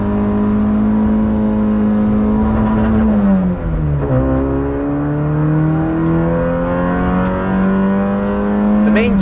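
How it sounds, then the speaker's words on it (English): Loud in-cabin engine note from a Nissan Micra K11 lapping the Nürburgring, holding high revs, dropping sharply at a gear change, then climbing again in a sustained strained whine. "That's a good start. Revving engine."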